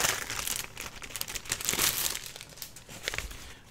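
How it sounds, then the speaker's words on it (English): A packet of vintage paper crinkles and crackles as it is opened, irregular bursts of crisp rustling up close, loudest midway, with no speech. "Excuse the crinkling."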